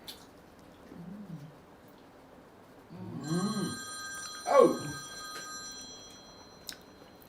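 A telephone rings with a steady electronic tone sustained for several seconds, joined by brief voices and an exclamation in the room.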